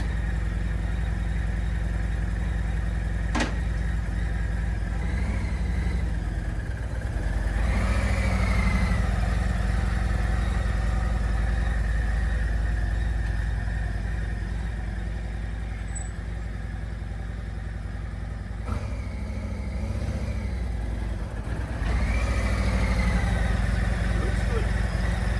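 A Harley-Davidson Touring motorcycle with a newly installed Mueller Powerclutch 2.0 runs nearby, its engine holding a low, steady idle with a couple of brief revs rising and falling.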